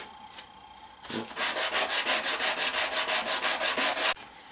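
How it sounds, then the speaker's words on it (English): Kydex edges are worked with 150 grit sandpaper in quick, regular back-and-forth strokes, about a dozen raspy scrapes in a steady rhythm, close and clear with no talking. "150 grit seems to do a really quick job of it."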